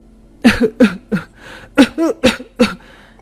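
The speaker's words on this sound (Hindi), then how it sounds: "अचानक ही उसे बहुत जोर जोर से खांसी आने लगी।" A woman coughs hard and repeatedly, a rapid string of harsh, loud coughing bursts with a brief catch of breath midway.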